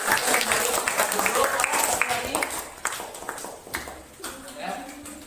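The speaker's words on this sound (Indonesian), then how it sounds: "Tepuk tangan untuk 3 orang teman kita." A classroom of schoolchildren applauds three classmates, loud scattered clapping mixed with voices, fading somewhat near the end.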